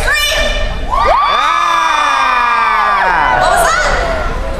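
A crowd screams and cheers at a high school talent show, a loud, sustained burst of shrieking voices and whoops that holds steady for several seconds before tapering off.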